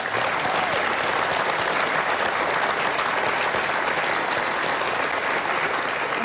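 Sustained applause from a town hall audience at a televised political forum with Senator Bernie Sanders, dense and steady throughout, filling the room with a continuous wash of many hands clapping.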